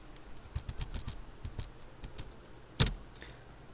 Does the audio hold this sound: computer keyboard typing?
yes